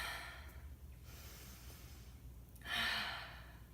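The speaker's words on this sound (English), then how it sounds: "Breathe." Breathing during a seated exercise routine: two soft, airy breaths, one near the start and a stronger exhale toward the end, close and quiet with no talking.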